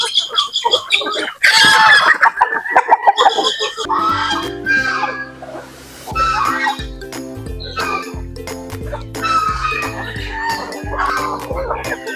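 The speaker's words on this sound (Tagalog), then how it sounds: "Ito po yung mga sisiw natin mga idol." Native chickens cluck and chicks peep busily nearby on a farm, with hens calling repeatedly over a steady low hum, loud and close throughout with no clear talk.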